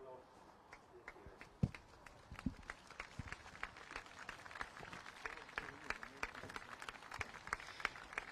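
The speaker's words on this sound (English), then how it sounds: "the live crowd here is doing a 30-second clap for the NHS" A live crowd at a speedway meeting claps steadily for about thirty seconds in tribute to the NHS and key workers. The applause is moderate and diffuse with scattered sharper claps, and voices carry faintly underneath.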